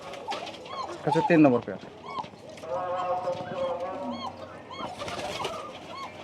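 Pigeons from a breeder's pairs, including black and red birds, give low rolling coos in the background. They are fairly close and moderately loud, running through the middle and end of the clip while someone talks over them.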